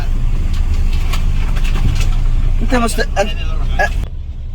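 A taxi rides through slow traffic at night in Makkah, its engine a steady low rumble inside the cabin while passengers talk briefly over it.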